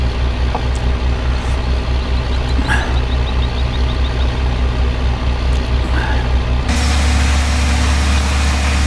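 Tractor engine idling in a Texas farming video game, a steady low rumble that runs throughout, with a few faint beeps and clicks over it and a louder, brighter mechanical hum from about the two-thirds mark.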